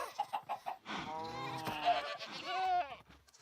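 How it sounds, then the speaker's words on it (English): Goats in the Minecraft video game, penned with cows and chickens, give a few short bleats and then a longer, wavering, nasal bleat, loud and close. "They also updated goats, so now they will hit things that move."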